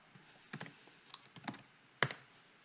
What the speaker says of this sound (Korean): 제가 뭐 잘못 타이핑을 한 것 같아요